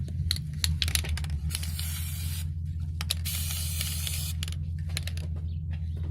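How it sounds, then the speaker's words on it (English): Battery corrosion preventative is sprayed onto car battery terminals in several hissing bursts of varying length, separated by short pauses, over a low engine hum. "spray both the terminal with a battery corrosion preventative"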